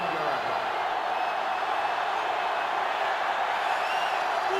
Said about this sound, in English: sellout crowd is really making a difference now as these guys can't even call the play